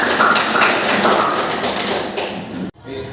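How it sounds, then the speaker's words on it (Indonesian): A classroom of students claps in applause, a dense, loud patter of many hands held steady for a couple of seconds before it abruptly cuts off. "kita kasih aplaus"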